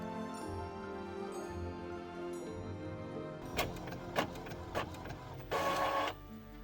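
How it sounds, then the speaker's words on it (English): A home printer runs through pages of a sewing pattern: a steady mechanical hum and whir, then several sharp clunks and a louder burst of feeding noise near the end. "Before printing, don't forget to check your printer settings."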